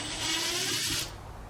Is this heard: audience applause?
no